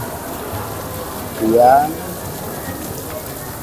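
Rain falls outside the Agung Palapa mosque in Pecatu, Bali, as a steady soft patter and hiss, with a brief spoken word rising over it midway.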